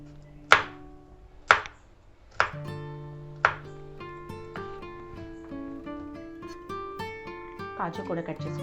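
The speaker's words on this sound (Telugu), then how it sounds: "ఇలానే అన్నీ కట్ చేసుకుందాం." Knife chopping dry fruits and cashews on a board for a sugar-free date and nut roll: four sharp, evenly spaced thuds, then softer quicker cuts, with a voice talking throughout.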